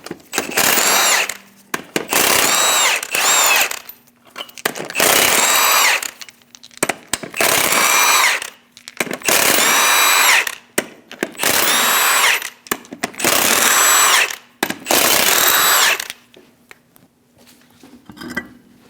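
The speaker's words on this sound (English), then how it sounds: "remove the 8 lug nuts." Powerful bursts from an impact-style power tool fitted with a 22mm socket remove the eight wheel lug nuts on a Chevrolet Express 2500 van, eight loud rattling runs each lasting about a second or two, with short pauses between them.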